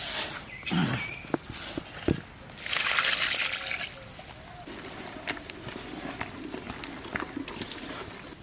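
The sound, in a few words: water being poured into a cooking pot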